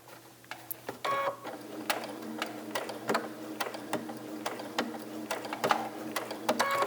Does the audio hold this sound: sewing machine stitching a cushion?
yes